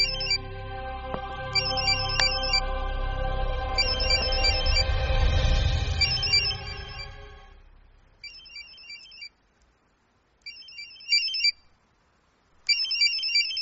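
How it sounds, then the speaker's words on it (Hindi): A phone rings with a repeating electronic pattern of short chirped tones. Early on it plays under a swelling dramatic film score, and once the music fades it continues alone in quiet bursts. "कोई फोन बज रहा है।"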